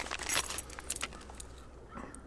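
A small set of keys for a puck lock on a trailer gooseneck box jangles briefly and close up, a bright metallic rattle with a few clinks that fades after about a second.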